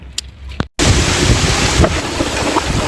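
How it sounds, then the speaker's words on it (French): Strong gusting wind at sea, around 40 knots, during a sudden squall aboard a sailboat, roaring loudly and continuously across the microphone after a brief quieter moment and a dropout, with rushing water beneath. "Alors là, on prend un coup de vent, c'est monté à 40 nœuds."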